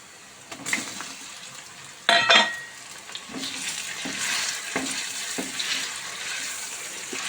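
Chicken pieces go into a pan of fried onions for mandi biryani, bringing a sudden burst of sizzling followed by steady frying and a few stirring knocks against the pot.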